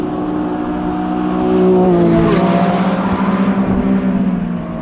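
A Lamborghini Revuelto's V12 engine revs hard on a race track, a loud, close roar that climbs steadily in pitch toward high revs and holds there with a rasping, buzzing exhaust note.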